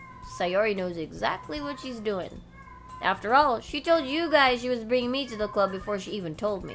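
Cats meow repeatedly in the Doki Doki Literature Club scene, with rising and falling calls standing out clearly. A voice actor's speech runs alongside them through most of the moment.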